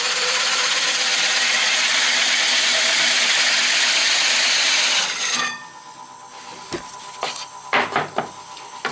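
A hole saw bores through wood with a loud, continuous grinding rasp that stops abruptly partway through, followed by a few quieter knocks and handling sounds.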